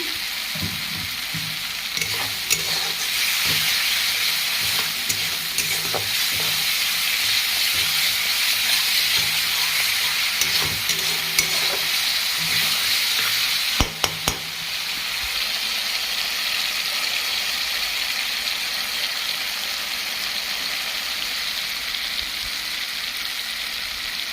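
Spice paste seasoned with salt and a little sugar sizzles steadily in a pan for rohu fish curry, a dense hiss of frying with brief stirring clatter partway through.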